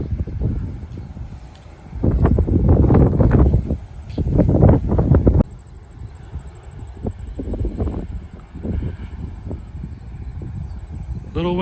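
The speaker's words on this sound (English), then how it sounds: "A little windy today in the middle of September" Steady wind rushes and buffets the microphone on a beach in mid-September as a hurricane approaches, with gusty roaring that swells and eases over time, mixed with some low background rumble.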